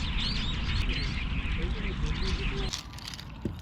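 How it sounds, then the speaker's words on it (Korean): Birds chirping at an urban campsite, short faint high tweets scattered over a dense, noisy outdoor background. "지금 여기 새소리 들리시죠?"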